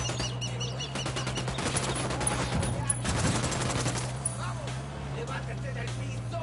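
Rapid gunfire sound effects crackle through busy music and shouted voices, a dense string of sharp shots running continuously near the front of the mix.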